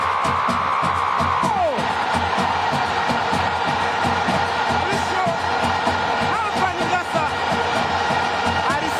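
Yanga football fans roar and cheer after a goal, a dense, loud crowd din with whoops and shouting that holds steady for several seconds.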